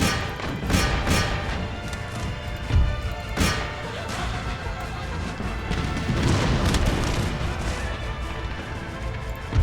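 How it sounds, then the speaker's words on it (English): Cannons firing round shot in the video game Empire Total War, a dense battlefield din of repeated booming impacts and crashes over constant rumbling noise. "Round shot."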